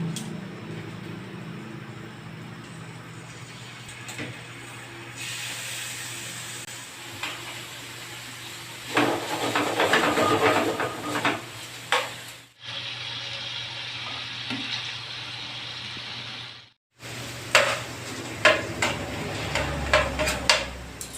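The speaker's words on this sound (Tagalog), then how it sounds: "Add oil, then saute the chicken." Chicken sautéing in oil in a pan, a steady sizzle with bursts of stirring and scraping, briefly broken by a short pause and then resuming loudly up close.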